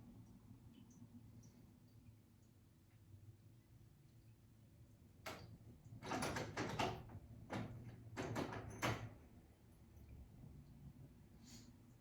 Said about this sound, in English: Cat's trying to break down the door